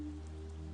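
Light rain seeps and drips through cracks in an old stone crypt ceiling, a soft, faint patter over a steady low hum, continuous and unbroken.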